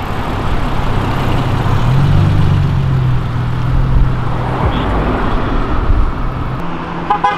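A Ford Fusion car on a city street gives a steady engine rumble under traffic noise, close and continuous throughout with no clear surge.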